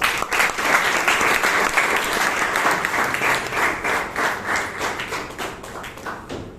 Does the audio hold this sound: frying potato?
no